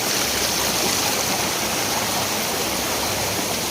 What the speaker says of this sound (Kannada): ಇಲ್ಲಿ ಒಂದು ನೋಡಿ ಫಾಲ್ಸ್, ಇದೊಂದು ಫಾಲ್ಸ್.